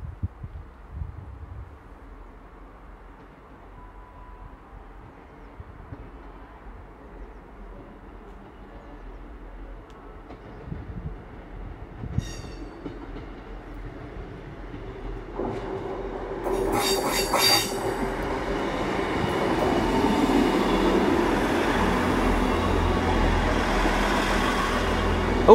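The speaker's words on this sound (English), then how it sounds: "Our next train at Salisbury is a Southwestern to London Waterloo." A South Western Railway train pulls into Salisbury station, its rumble growing from faint to loud as it nears, with sharp wheel squeals and clicking over the rails as it arrives.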